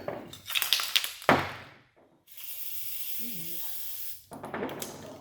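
Short clattering handling noises give way to a steady, loud aerosol spray of air filter oil hissing for about two seconds, then more rustling and clicking follows.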